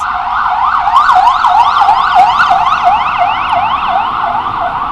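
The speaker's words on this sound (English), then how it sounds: "the siren went by" An emergency siren passing on a New York City street in the East Village sweeps rapidly up and down in a repeating yelp pattern, loud and close, dominating the scene.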